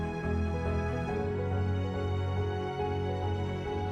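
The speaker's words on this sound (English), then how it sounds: "The noise you hear right now is a diesel truck next to me." A diesel truck runs close by, a steady low rumbling drone with harmonic hum that holds even and continuous throughout, no voices over it.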